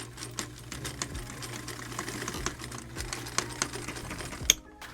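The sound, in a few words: sewing machine sewing a patch onto pants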